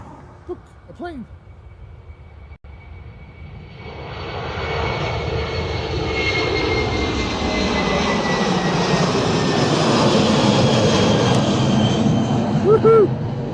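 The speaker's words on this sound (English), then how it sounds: "Ooh, look, a plane." An airplane passes at Dublin Airport, its engine roar swelling after a few seconds and holding loud and broad to the end, with a brief voice near the start and near the end.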